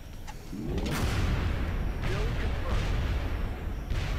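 In the XCOM Enemy Within video game, an explosion goes off as a heavy boom followed by sharp crackling blasts and rumbling debris, loud and close, with a few further impacts trailing off.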